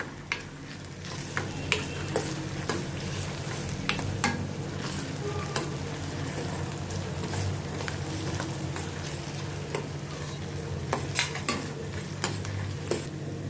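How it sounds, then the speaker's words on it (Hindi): Ginger, garlic and green chili paste sautéed with onions in a pan for a dhaba-style potato and pea curry: a continuous close sizzle under regular scraping and stirring strokes, with sharp metallic taps of the spoon against the pan. "इसको भी अभी मैं प्याज के साथ सौते करती हूँ ताकि इसका कच्चापन निकल जाए।"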